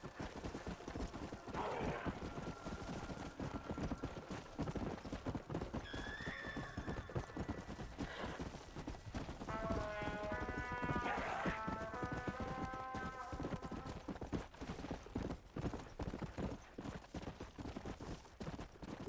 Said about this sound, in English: This is the horse that'll come when you call.